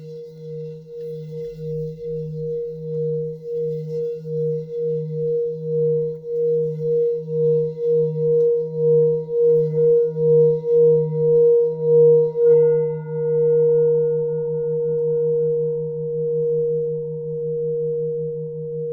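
A Tibetan singing bowl, struck with a mallet, hums steadily with a low fundamental and a higher overtone, its tone pulsing in a slow, even wobble that swells and fades over time.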